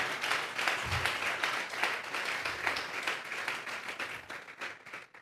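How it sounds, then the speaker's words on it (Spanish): Church congregation clapping in praise, a steady wash of applause from a crowd heard at moderate distance, continuous with scattered sharper claps throughout. "Regálele ofrenda de palmas al Dios de la gloria."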